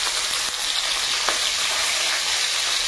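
Food fries in hot oil in a wok at a rural Sundarbans cooking setting. A loud, continuous bright crackle and hiss fills the short clip, with no voices.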